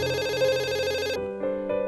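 A telephone rings with an incoming call, a bright electronic ringtone trilling loudly for about a second before breaking into shorter pulsing tones, heard alone.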